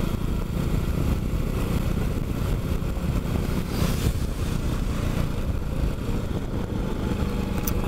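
Scooters and motorcycle engines pass on a busy Seoul street, a steady broadband drone of traffic running without pause throughout.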